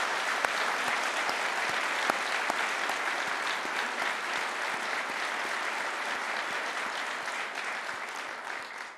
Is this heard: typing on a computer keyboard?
no